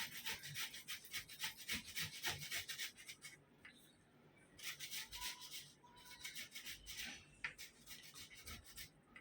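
Cucumber skin being rubbed and scraped off a kokani cucumber, with repeated rasping, gritty strokes in short bursts, close and fairly quiet, pausing briefly midway.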